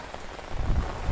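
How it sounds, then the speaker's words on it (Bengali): Heavy monsoon rain falls steadily on a village in a brief wash of dense patter, with a low rumble swelling underneath partway through. "মেঘ আর বৃষ্টি"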